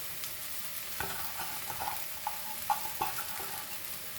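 Soaked poha is stirred in an oily pan, a soft sizzle sitting under a run of light spatula scrapes and taps. The strokes come at a loose rhythm of roughly one every half second, close and fairly quiet.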